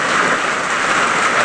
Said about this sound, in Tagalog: walang katapusan ang ulan na ito mga kabady. Lagi na lang umuulan.